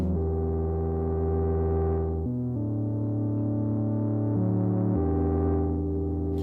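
A Eurorack modular synthesizer plays sustained ambient drone tones through an Aurora reverb module with a send delay, the pitch shifting between held chords in a smooth, continuous wash.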